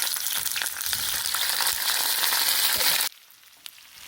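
Sliced onions dropped into hot vegetable oil crackle and sizzle loudly and steadily for about three seconds, then the frying cuts off abruptly, leaving a faint background hiss.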